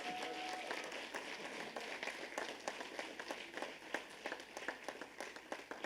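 Faculty are applauded at an honor society induction ceremony, a faint, distant spread of crowd clapping with individual claps growing more distinct toward the end.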